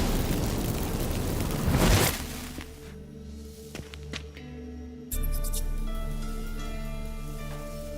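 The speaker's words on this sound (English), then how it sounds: "Fireworks." Fireworks in the video game The Witcher 3: Wild Hunt: a broad whooshing burst, then a quieter stretch with several sharp crackling pops over a low hum before a rumbling roar returns.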